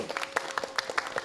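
Scattered clapping from a small audience at a children's preaching show, a handful of distinct, uneven claps that ring out separately over a faint hum instead of merging into a roar.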